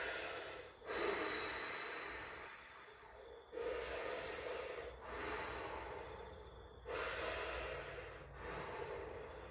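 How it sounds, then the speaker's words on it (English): A person draws three long, deep breaths through the mouth during a fascial movement class, each a loud, close, airy rush lasting a couple of seconds, separated by brief pauses, with no talking. "I'm going to breathe 3 times through our mouth."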